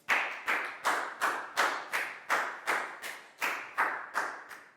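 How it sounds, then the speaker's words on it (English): A classroom of Year 4 pupils in a math lesson claps for a student named Pat in about twelve sharp, regular bursts, each landing close and loud and then fading quickly. "big round of applause for Pat, please, guys"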